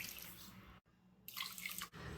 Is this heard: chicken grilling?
no